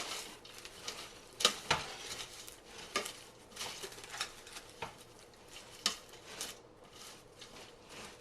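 Coated popcorn is stirred in a bowl, making quiet, irregular clicks and rustling scrapes that come in short bursts throughout.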